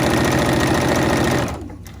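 A sewing machine stitching fabric for a hair scrunchie, a loud rapid mechanical chatter running steadily close by before slowing and stopping, with no voices.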